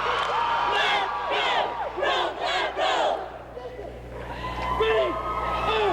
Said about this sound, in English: Wow, now that's crowd response